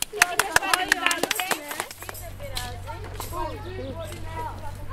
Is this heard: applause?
yes